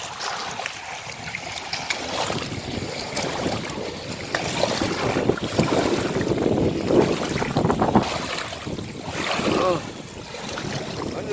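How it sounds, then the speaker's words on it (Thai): Strong wind buffets the microphone with rough, gusting roars, mixed with water and boat noise and some muffled voices, while fishing on a reservoir in Tak, Thailand. "ลมแรงมากเลยตอนนี้"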